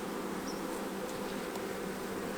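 A steady, dense buzzing of many honeybees in a hive's winter cluster, continuous and close, with no voices.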